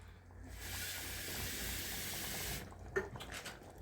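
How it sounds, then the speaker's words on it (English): Tap water runs into a bottle to rinse out leftover tomato while making Italian bolognese, a steady hissing stream for a couple of seconds that stops, followed by a few faint knocks and sloshes. "I'm adding a bit of water back into my bottle"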